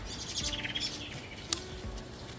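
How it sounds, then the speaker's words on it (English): Small birds chirp and tweet in short, bright bursts outdoors in a garden where rosemary grows, fairly near, with a sharp click midway and soft ambient noise underneath. "You hear the birds?"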